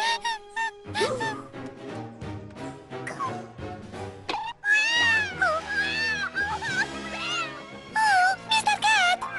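A cartoon cat meows repeatedly with rising and falling cries over background music, with some voices mixed in.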